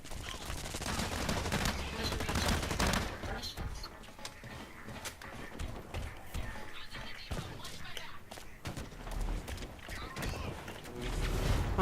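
Rapid, dense gunfire from the online shooter game Blacklight: Retribution rattles on continuously at moderate level, with mechanical clatter mixed in.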